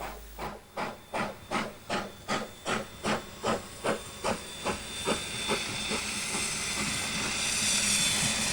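A New Zealand steam locomotive from the 482 class with Baker valve gear gives about a dozen sharp, rhythmic exhaust chuffs. They quicken, then merge into a loud, continuous hiss of steam, close and with no speech.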